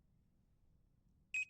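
A mobile app's countdown timer alarm sounds once the time runs out: two short, bright electronic beeps in quick succession, clear and close, following near silence.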